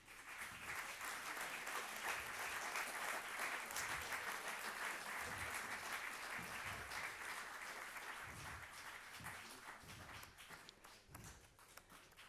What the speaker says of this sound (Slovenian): In še bomo ploskali